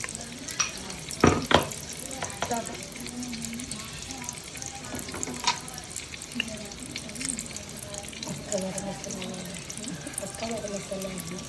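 Crushed masala sizzling as it hits hot oil in a pan with fish, a steady frying hiss with scattered stirring clatter and a sharp knock early on, voices chatting faintly in the background.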